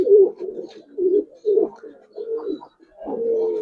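Giribaz pigeons coo in short, throaty bursts, several soft rolling calls repeating with brief pauses, close and clear against a quiet background.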